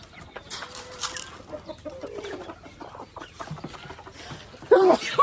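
A flock of farm chickens clucking in scattered bursts, mostly moderate in level, with one louder, closer squawk near the end and some faint speech in the background.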